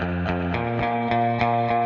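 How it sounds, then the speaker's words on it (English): Electric guitar driven through Fender power amp distortion, played as rhythmic chords with a thick, fattened, saturated tone; about seven evenly spaced strums ring close and loud with no talking. "we have power amp distortion, which kind of fattens things up."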